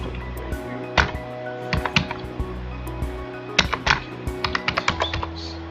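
Someone types on a computer keyboard, a series of close, crisp key clicks in uneven bursts with short gaps, ending in a quick run of taps, no voices.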